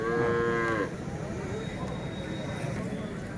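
A Hallikar cow lows once, loud and close, with a clear harmonic moo lasting under a second, then fades into the steady murmur and background bustle of a rural cattle fair.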